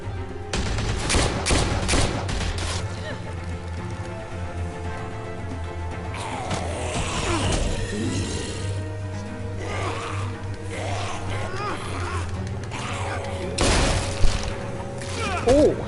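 Gunfire in the Telltale game The Walking Dead: A New Frontier, a few sharp shots punctuating a steady low game soundtrack, with a louder blast near the end and voices talking at times.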